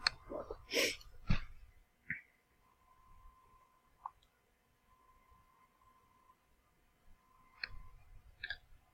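A computer mouse gives a handful of sharp, separate clicks, close and quiet, spaced irregularly across an otherwise hushed room.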